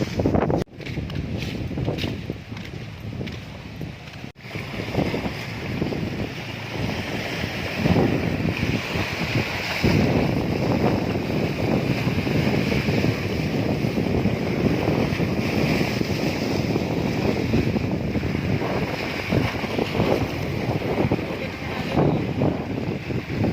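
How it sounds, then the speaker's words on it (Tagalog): Strong northeast monsoon wind and rough waves around a small boat at sea, a constant loud rushing of gusts buffeting the microphone with surging water throughout, and a sharp knock early on. "Lakas po ng alon niya."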